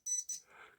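A measuring instrument switched to beep mode gives two short, sharp, high electronic beeps in quick succession, close by, followed by a brief softer rustle.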